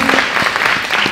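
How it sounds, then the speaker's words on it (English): A short burst of group clapping for helpers after a lesson on faith and obedience, dense and close, with individual claps poking through. "Give me a round of applause."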